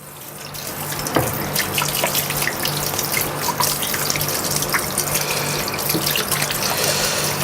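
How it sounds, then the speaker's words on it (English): Chicken being washed under a running kitchen tap, with water gushing steadily and loudly at close range and small splashes as the meat is handled. "very quickly I'm going to wash it under running water"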